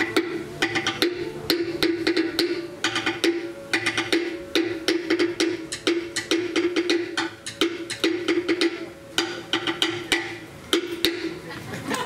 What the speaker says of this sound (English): Tiko, can you give us a beat, please?